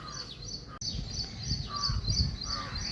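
Crows caw repeatedly in the early morning outdoors at around half past six, a run of harsh calls at moderate distance over low ambient rumble.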